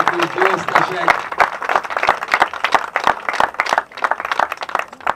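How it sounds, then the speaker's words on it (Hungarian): Audience at a rally award ceremony claps for the H1 class winners, uneven clapping from a modest crowd close by, mixed with voices and shouts throughout. "Még egy nagy tapsot kérnénk szépen a H1-eseknek, és győztesek."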